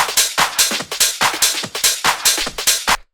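Punchy speed garage drum loop with a crisp 909 hi-hat, rapid bright hat hits and kicks driving a tight shuffling groove, loud and alone before cutting off abruptly.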